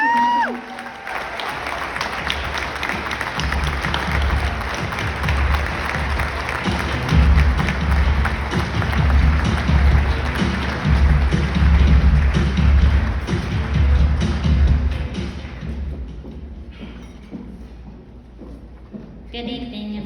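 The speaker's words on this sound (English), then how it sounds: "if we can give a huge round of applause" An evening audience at an epilepsy awareness talk breaks into sustained applause, a dense wash of clapping that swells, holds for several seconds and then fades as a speaker begins talking.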